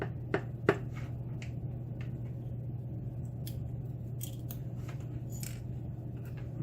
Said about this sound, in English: let's go ahead and take these pins out of the top here